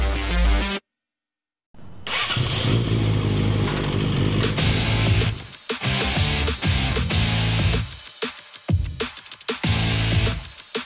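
Motorcycles riding on an open road toward Şile, engines droning loudly and steadily with rising and falling revs, cut by a brief silent gap near the start and choppy dips later.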